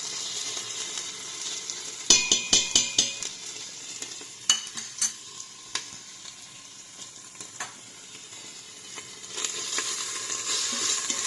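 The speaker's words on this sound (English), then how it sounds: "Now I will add ginger garlic paste." Ginger garlic paste is added to browned onions in an Instant Pot. A burst of quick metallic clinks is followed by a steady close sizzle, with scattered spoon taps, and no one speaks.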